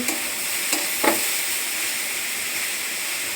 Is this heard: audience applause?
no